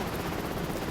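A helicopter gunship in the Prototype game gives off a dense, steady rotor and engine roar, loud and unbroken across a brief moment with no voices.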